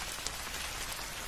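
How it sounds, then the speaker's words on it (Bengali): Steady rain falls on surfaces in a cartoon, a dense, even hiss of drops with no breaks, moderately loud and alone. "সময় যত বাড়ছে বৃষ্টিও দেখছি ততই বাড়ছে।"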